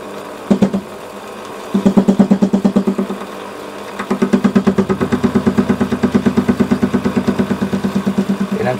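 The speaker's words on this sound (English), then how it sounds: "with this lathe, when you've got an intermittent cut, it will push the carriage back a bit" A metal lathe takes an intermittent cut, giving a loud, rhythmic chugging pulse: a short burst, a pause, then steady repeated thumps that continue to the end. No one speaks.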